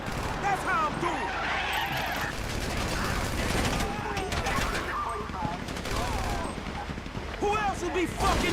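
Gunfire erupts in the video game Grand Theft Auto V, bursts of automatic and single shots scattered across the scene amid distant engine noise, with character dialogue continuing over the shooting.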